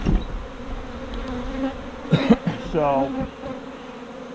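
Honey bees hum around an open hive during comb honey harvesting, a close buzzing drone with a few louder passes near the microphone, and someone speaks briefly.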